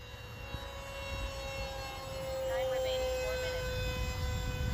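A Hobbyzone Aeroscout RC plane flies overhead outdoors, its small electric motor a thin, steady whine that swells slightly as it passes.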